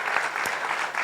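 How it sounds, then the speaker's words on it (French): Audience applause at a closing ceremony, a brief burst of many hands clapping in a hall, steady and moderately loud with a few sharper claps standing out. "vous pouvez applaudir bien fort pour ce making-of."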